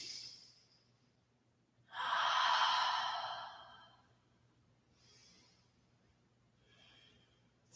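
Slow, audible breathing during a yoga tree pose: one long, strong exhale like a sigh, followed by two softer, fainter breaths, close and quiet, with no speech.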